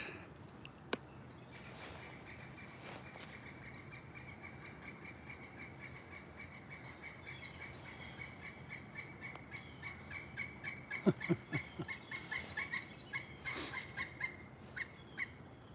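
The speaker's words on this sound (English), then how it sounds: "You all hear that bird?" A bird calls outdoors on a quiet lakeside fishing stream, a few sharp calls rising late in the stretch over faint steady ambient hiss and crickets, with no talk.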